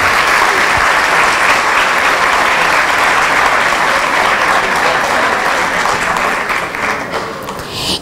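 A large university audience at an economics faculty lecture breaks into loud, sustained applause, a dense roar of many hands clapping that holds steady before easing slightly near the end.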